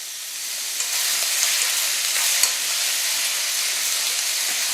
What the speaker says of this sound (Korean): 이렇게 볶아주시다가 얘도 해산물이니까 화이트 와인 저는 좀 넣을게요.